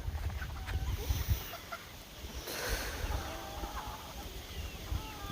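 Chickens cluck softly in a farmyard, scattered short clucks with faint rustling, fairly quiet and a little distant.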